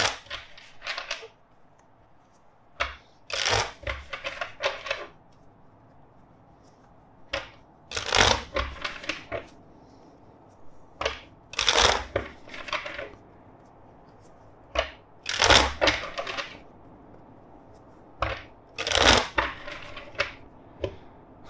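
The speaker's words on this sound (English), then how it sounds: "First, let's shuffle four times." Tarot cards are shuffled by hand in several quick, crisp riffling bursts separated by short pauses, close and clear against a quiet background.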